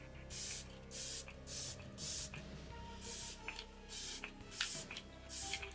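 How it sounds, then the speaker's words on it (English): An e.l.f. All Nighter Microfine Setting Mist spray bottle misting in a series of short, soft hissing bursts, about eight spaced puffs close to the microphone with quiet handling between. "Now I'm going to do a little setting spray."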